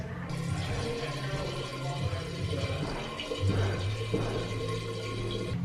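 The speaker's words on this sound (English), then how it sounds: "I was looking for something to put water in, to pour it into here" Water pours steadily into a container in the industrial kitchen of an old inn under restoration, giving a continuous rushing, splashing wash that swells slightly near the end.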